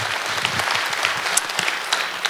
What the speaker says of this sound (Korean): 박수 한번 뜨겁게 주님께 감사하고 박수하겠습니다